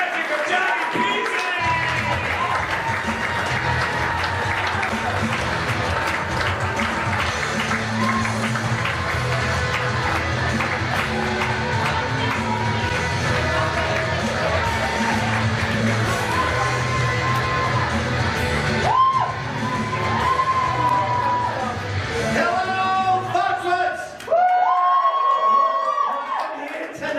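Comedy club audience at COMIX clapping and cheering steadily for a comedy magic act, a dense sustained wash of applause and crowd noise that runs for over twenty seconds before fading into louder tonal sounds near the end.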